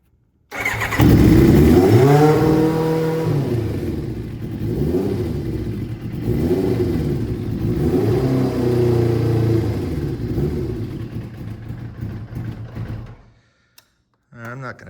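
A 1989 Kawasaki ZX7 (ZX7H1) with a Muzzy exhaust, started indoors after sitting for years, cranks and catches almost at once, then idles loudly with repeated revs rising and falling for several seconds before shutting off.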